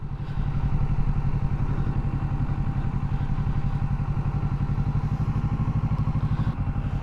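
A motorcycle engine runs close by with a steady, fast, evenly pulsing chug as clutch and throttle are worked to pull away slowly, loud and continuous, with a brief dip near the end.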